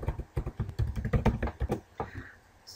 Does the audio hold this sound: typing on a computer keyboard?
yes